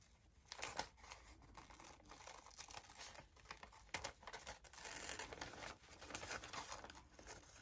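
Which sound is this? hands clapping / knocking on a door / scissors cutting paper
scissors cutting paper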